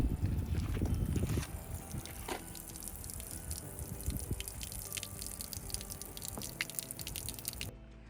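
Water trickles and drips steadily for several seconds, with scattered splashes and faint clatter, no voices.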